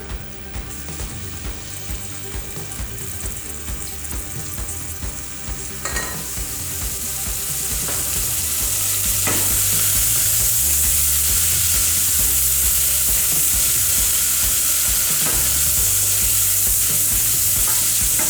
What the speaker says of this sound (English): Going to brown the onions and the pancetta.